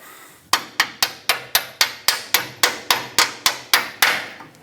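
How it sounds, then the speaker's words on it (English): A hammer strikes a bolt on a 2008-2010 Ford F-450 Super Duty front track bar bushing about fifteen times in an even, rapid series of sharp metallic blows, loud and close, with no one talking. "let's just support this and punch that bolt out"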